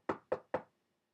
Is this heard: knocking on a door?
yes